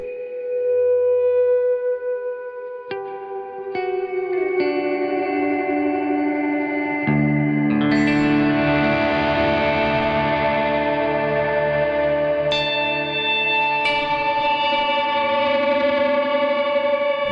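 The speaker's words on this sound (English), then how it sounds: "And then I'm gonna put a little the CXM reverb on it" Sustained electric guitar chords through a CXM reverb ring out with a washy reverb tail, growing denser and brighter midway as more notes and distortion stack up, with no talking.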